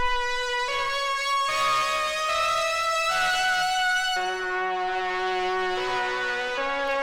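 A hard, bright lead synth playing a melodic line, doubling a guitar solo, with sustained buzzy tones stepping between pitches, steady and prominent with no voices.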